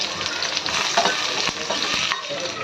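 Crushed roasted onion sautés in a small spoonful of oil on a hot tawa, a close, steady sizzle broken by scraping stirs and occasional clicks, with no speech.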